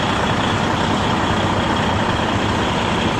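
A truck engine drones steadily and close while the rig backs under a trailer at a receiver, with a faint repeating reversing beep in the background and no talk.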